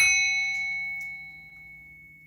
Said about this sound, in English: I'm going to bang the bell.